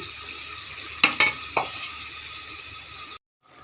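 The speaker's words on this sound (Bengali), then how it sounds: "এখন কষানো প্রায় হয়ে এসেছে, আমার একটু কষিয়ে নেব।" Beef liver and chana dal sauté in a pot with a steady sizzle, broken by three sharp clanks of a spoon against the metal, before the sound cuts off abruptly near the end.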